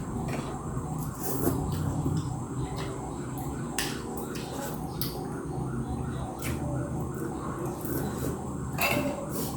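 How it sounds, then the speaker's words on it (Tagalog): A siren wails in a steady rising-and-falling pattern through the clip, moderately distant, over a busy outdoor background with scattered clicks and no talking. "Baka ambulance."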